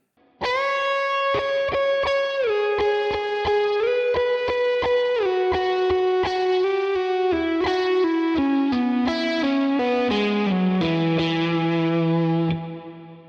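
A distorted electric guitar plays a major pentatonic lick note by note at a slow, deliberate pace, sustained tones stepping down in pitch, steady and loud.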